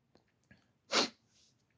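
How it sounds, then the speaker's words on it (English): One sharp, loud human sneeze after a couple of faint breaths, followed by a quick sniff, close to the microphone. "So like I had to sneeze."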